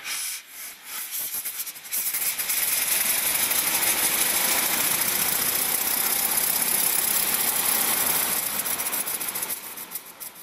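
A 1902 Mercedes Simplex engine, hand-primed with petrol, fires up and settles into a steady, loud idle with a strong hissing, rushing character that runs for several seconds after a quieter start.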